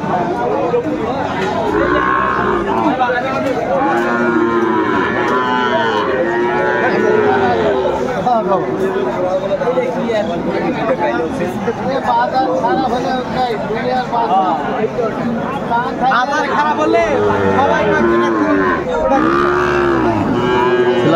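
Sahiwal cattle and bull calves low loudly and repeatedly at a busy cattle market, their calls overlapping without pause above a constant murmur of crowd chatter.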